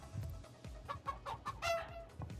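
Chicken clucking from a chicken dance emote in the video game Fall Guys: a run of short, rhythmic clucks and squawks, fairly quiet and heard alone.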